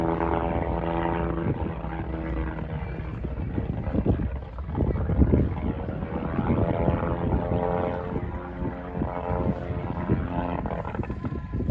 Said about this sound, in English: It's an old World War One plane, but I'd say he's got a bit of a condenser issue